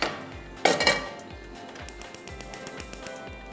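A utensil taps and clinks against a bowl in a steady, even rhythm while eggs and oil are mixed for omelettes, following a louder clatter near the start.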